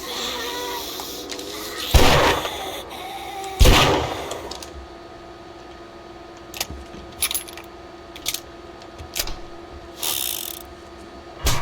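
Gunshots in the video game 7 Days to Die: two loud, close reports about two seconds apart, followed by a string of lighter metallic clicks and clinks over a steady game ambience.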